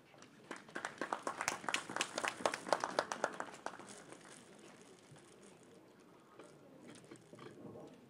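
Applause from an audience at the opening ceremony of a memorial hall and residence hall, a burst of dense clapping that peaks early and then thins to a few scattered claps.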